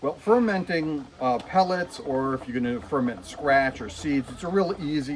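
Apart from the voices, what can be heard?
No everyday noise stands out behind the speech.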